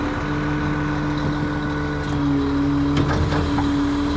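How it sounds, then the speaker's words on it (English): A 1998 Peterbilt 335 truck engine runs at high idle with the PTO engaged, a steady, fairly loud mechanical drone with low tonal hum and a few brief clanks partway through. "It's a little loud now. I have the PTO on and the high idle on"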